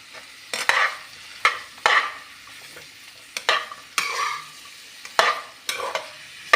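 Cut okra is stirred into bitter gourd sabzi in a pan, five or six distinct scraping sweeps of a spatula with soft sizzling beneath and quiet pauses between strokes, no voices.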